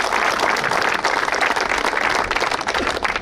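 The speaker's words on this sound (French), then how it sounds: "Et ça mérite des applaudissements." Audience at an open house event for the Espace Ricard applauding, a dense, sustained burst of many hands clapping close by with no talk over it.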